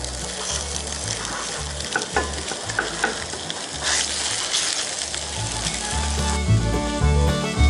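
Sausage sizzles and fries in a cast iron Dutch oven at a camp breakfast while being chopped and broken up, with steady loud crackling and frequent scraping stir strokes throughout, no talking.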